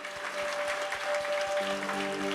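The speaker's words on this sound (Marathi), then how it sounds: "येशूंसाठी एक जोरात टाळी वाजवा" A church congregation applauding at a New Year midnight service, steady clapping under a sustained musical tone and rhythmic low beats from accompanying instruments.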